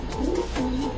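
Racing homing pigeons coo close by, two soft rising-and-falling calls in quick succession over a low background hum, with no one speaking.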